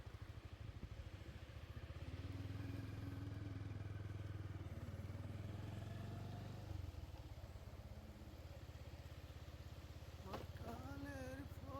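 Motorcycle ridden on Saint Martin's Island, a steady close engine drone with a rising tone partway through as the rider works the gears, under occasional voices.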